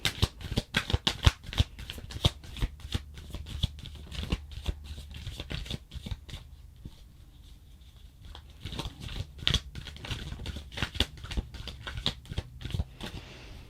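Tarot cards shuffled close up, rapid flurries of crisp riffling flicks with a quieter stretch in the middle before the brisk shuffling resumes.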